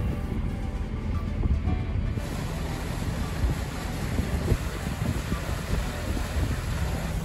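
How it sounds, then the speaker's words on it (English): A large péniche barge on a French canal passes close by, its low engine rumble and water churn steady throughout, mixed with wind buffeting the microphone. "we got a big Péniche approaching from behind"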